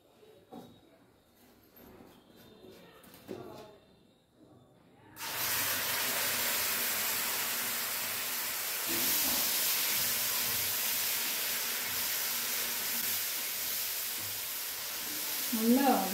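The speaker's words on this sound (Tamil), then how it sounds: "இந்த மசாலா இந்த ஆயிலில் நல்லா ஃப்ரை ஆகி வருது." A ground onion, ginger and garlic paste hits hot spiced oil in a pan and sizzles. After a quiet opening with faint clatter, a loud, even frying hiss starts suddenly and holds steady to the end.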